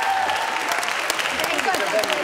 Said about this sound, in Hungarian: Egy kis tapsot a birkózóknak!